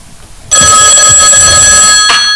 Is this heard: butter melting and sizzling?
no